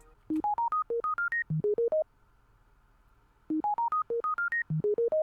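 A bright synth preset, Electrostar from the Xenology pack, plays a quick stepped melody of short, evenly spaced beeping notes in two phrases with a gap between, clear and alone.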